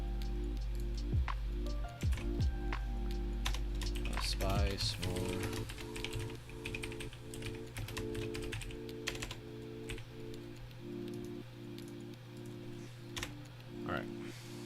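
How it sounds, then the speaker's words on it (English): Rapid clatter of keys on a computer keyboard during a live stream, steady bursts of typing close to the microphone alongside an ongoing low hum and occasional talking. "And then we're going to type that all out together."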